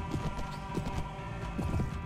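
Horse hooves clip-clop at a steady trot in the Mount & Blade video game, rhythmic dull thuds over a constant low hum, with no talking.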